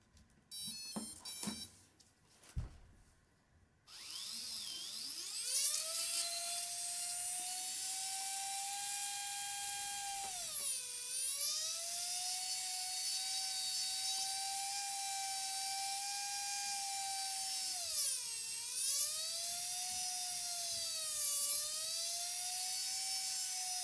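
A small XKK170 RC helicopter motor spins up after a few clicks and holds a steady high electric whine, dipping in pitch briefly a few times as the rotor loads, close and continuous with no talking.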